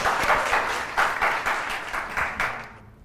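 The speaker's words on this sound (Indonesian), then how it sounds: "tepuk tangan untuk kedua peserta" Applause for two quiz contestants on a game show, arriving in several short swells of clapping that fade away over about three seconds, with no voices over it.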